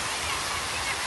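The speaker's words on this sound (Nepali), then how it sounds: "देख्नु भएको छ कस्तो दामी झरना छ यहाँ" A waterfall in Qatar pours with a dense, continuous rushing roar, close and even throughout the short stretch, with no distinct voices.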